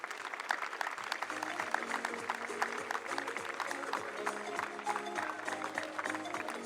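Applause for volunteer firefighters at an open-house fire station event in Mirano, a dense, steady crowd clapping that runs the whole time, fairly distant and soft.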